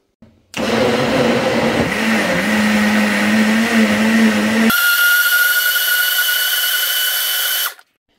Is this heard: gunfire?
no